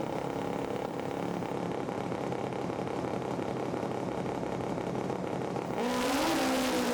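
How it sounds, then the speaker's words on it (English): Top fuel and funny drag bikes at Santa Pod Raceway, with a steady, loud engine roar holding throughout and then a rising, harsher surge of revving near the end as the bikes launch. "top fuel bike near side of the racetrack, funny bike far side."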